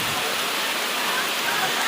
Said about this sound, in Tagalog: biglang dumating ang malakas na ulan